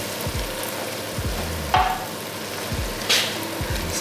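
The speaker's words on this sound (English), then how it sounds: "And now we start to add the stock little by little." Stock added little by little to a pan of white truffle mushroom risotto and stirred in, with soft scraping strokes over a low simmer and a couple of brief, louder splashy bursts.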